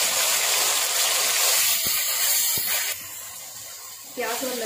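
Garlic and onion paste fries in hot oil with a steady, loud hiss and sizzle that drops slightly midway, while someone talks over it.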